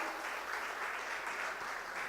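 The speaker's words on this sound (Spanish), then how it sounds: "Denle un aplauso fuerte al Señor si se lo va a dar" Congregation applauding the Lord during an apostolic church service, a steady wash of many hands clapping together, moderately faint and sustained without talking.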